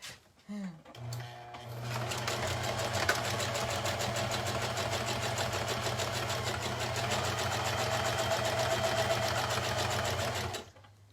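A sewing machine runs in one continuous, steady whirring burst for about nine seconds at close range, after a brief moment of talk at the start.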